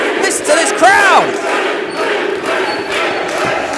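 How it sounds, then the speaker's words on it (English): A live pro wrestling crowd cheers and yells around the ring, with a sharp whistle and shouts rising over a steady roar of voices. "Listen to this crowd."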